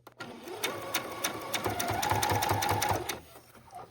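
A sewing machine runs a short burst of stitches attaching bias tape to the edge of a needlepoint canvas, a close rapid mechanical chatter that builds and then stops.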